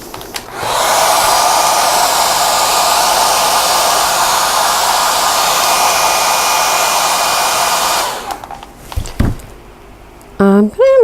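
A hair dryer blows a loud, steady rush of air over freshly brushed paint for about eight seconds, then cuts off, leaving small handling noises and a short voice at the end.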